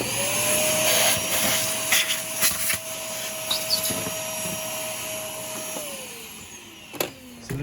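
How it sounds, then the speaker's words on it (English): A vacuum cleaner runs next to a classic Briggs engine being repaired, a steady whining motor drone with a sustained tone that holds and then drops away as it winds down, with knocks and bumps from handling. "I'm gonna get the vacuum out here."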